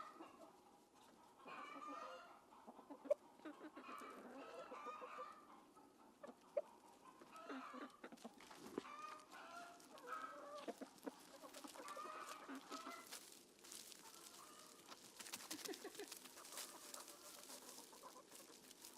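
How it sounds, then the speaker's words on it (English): Several chickens clucking and murmuring close by, soft and steady, with occasional sharper squawks and rustling over a quiet background. "I think that the chickens definitely approve of their run."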